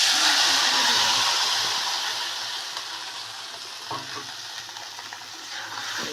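Crushed garlic crackles in hot oil with chopped bottle gourd greens and potato, a bright, loud sizzle that eases slightly as it continues, with occasional faint stirring clicks.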